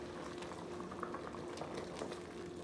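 Great northern beans simmering with a smoked ham bone in a pot after about two hours of cooking, a steady close bubbling and popping boil running alone throughout.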